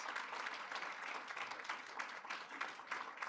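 Dinner audience at an honorary degree event applauding the catering team led by Chef Ernie, a dense, even patter of many hands clapping steadily throughout, moderately faint and without talk.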